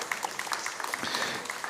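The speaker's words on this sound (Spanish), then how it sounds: "Le brindamos un aplauso." Audience at an international economics forum applauding to welcome a speaker, continuous moderate clapping heard from within the hall, fairly soft throughout.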